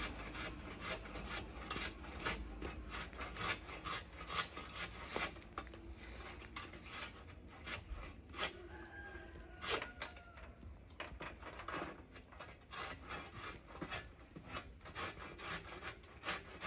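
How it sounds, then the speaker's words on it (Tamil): Dried weeds are cut during a demonstration at an agricultural expo in Viluppuram, giving faint, rapid, repeated rasping strokes in a steady scraping rhythm. "அந்த காஞ்ச கலையை அறுக்குறோம்,"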